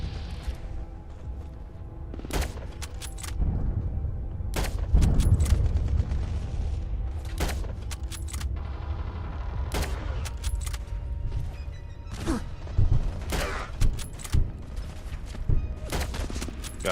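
Rifle gunfire fitted with a reflex sight in the video game Fallout: London: sharp, loud single shots spaced irregularly across a rumbling combat background, with some shots coming in quick pairs and no speech.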